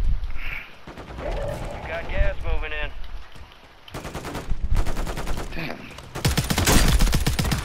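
Gunfire in a Call of Duty match, with loud rapid automatic bursts in dense rattling volleys that come in waves, the heaviest near the end, while a person talks over parts of it.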